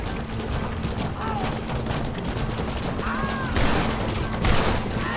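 Rapid gunshots in Red Dead Redemption ring out as a steady volley under game sound and music, with voices talking over the shooting.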